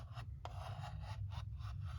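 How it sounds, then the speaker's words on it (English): Dremel rotary tool grinding down ejector pin marks on a plastic model car part, a short close raspy scraping in brief repeated strokes. "I'll use my Dremel tool here, and I'll just grind away a little bit carefully"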